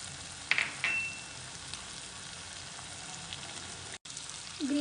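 Green peas drop into a frying pan of vegetables for Schezwan fried rice, giving a soft rustle and a steady gentle sizzle, close and fairly quiet.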